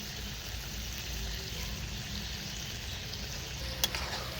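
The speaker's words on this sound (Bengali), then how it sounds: "শুধু আস্তে আস্তে আস্তে আস্তে জাল দিতে হবে আর মাংসটা নাড়াতে হবে" Chicken with garlic, ginger paste and turmeric fries in a pan, giving a steady close sizzle with soft stirring and one sharp clink near the end.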